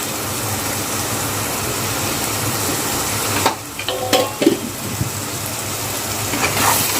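Spices frying in hot oil for a Malvani-style kuppa fish dish, a steady broadband sizzle running throughout at moderate level, briefly interrupted by a few stirring scrapes and clinks midway before the hiss resumes.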